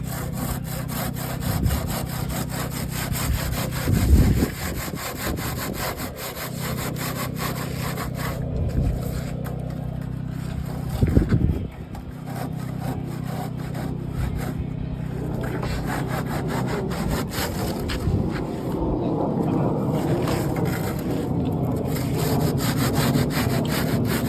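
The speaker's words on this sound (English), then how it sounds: "Just gonna take a handsaw, finish this cut down until it meets up with the other cut we made on the other side." A handsaw rasps steadily through a wooden wall, finishing a cut, with rhythmic back-and-forth strokes close by and a few louder bursts between the passes.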